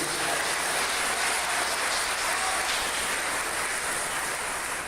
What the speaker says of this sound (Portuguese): As palmas louvam o nome do Senhor, né?